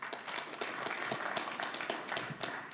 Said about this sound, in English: can you clap again for him, please?